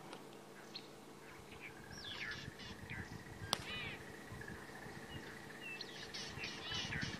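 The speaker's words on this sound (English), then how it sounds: "we've got a wonderful bird party around here as well" Birds calling during a sunrise safari drive in the bush, several distant caws and chirps scattered over a quiet outdoor background, faint and spread out, with one sharp click in the middle.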